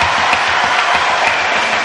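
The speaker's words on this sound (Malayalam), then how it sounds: "അപ്പൊ ഒരു നല്ല കയ്യടി ഇവർക്ക് കൊടുത്ത ജീവിതത്തിന്" An audience at a religious gathering gives a dense, continuous round of applause, loud and close, with many hands clapping at once and no voices on top.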